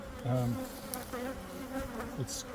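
Honeybees buzz around top bar hives during an outdoor hive inspection, a steady close drone with individual bees swelling and fading as they pass near.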